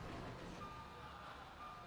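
In GTA V, a truck's reversing beeper sounds a steady high electronic tone held over a low engine rumble, fairly faint and distant.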